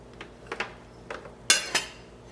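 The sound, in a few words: knife used to remove a bowl from a brie wreath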